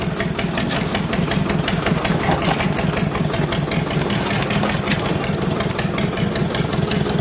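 Ursus C330 tractor engine pulling away at low throttle, a loud, steady, close diesel chugging with rapid regular knocking pulses throughout.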